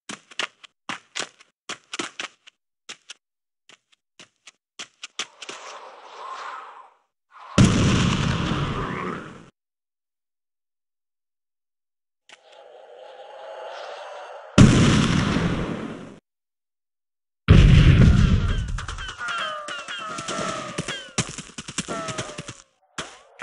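Artillery fire-mission explosions in the 1998 PC game Delta Force: a few loud, deep blasts, each rumbling off into silence, separated by bursts of sharp clicky typing sounds and faint radio chatter.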